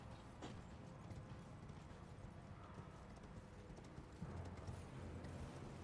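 Horse hoofbeats while riding in the video game Elden Ring, a steady, rhythmic clip-clop of galloping hooves that continues throughout at moderate level, with faint background game ambience.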